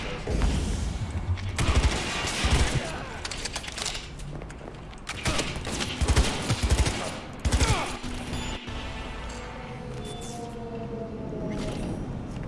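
Gunfire in Cyberpunk 2077, rapid bursts of shots and sharp cracks crowding the first eight seconds, then thinning into scattered reports over a lingering rumble.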